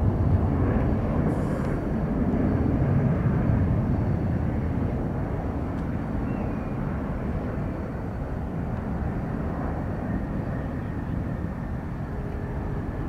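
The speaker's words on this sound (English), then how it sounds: "our first heavy jet of the day, to no surprise, 787 9 Dreamliner from Chicago O'Hare" A Boeing 787-9 Dreamliner heavy jet at SFO airport gives a steady, loud engine roar that holds level throughout with no talk over it.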